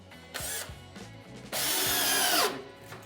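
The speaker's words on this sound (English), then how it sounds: "once all the pilot holes are drilled, then I'll come back and put the screws in" A power drill bores pilot holes into 2x4 lumber for a metal forming work table: a few short whirring bursts, then one long, loud, steady drilling run that winds down. No one speaks.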